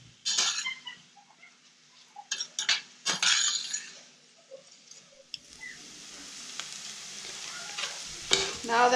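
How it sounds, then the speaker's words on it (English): Soft sizzle of onions frying in olive oil spray in a pan, broken by scraping utensil stirs and light metallic clinks, the frying hiss building toward the end. "I am frying the onions in an olive oil spray."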